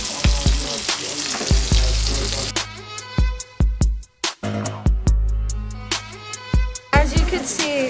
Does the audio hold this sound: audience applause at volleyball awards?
no